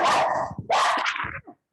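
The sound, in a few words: dog barking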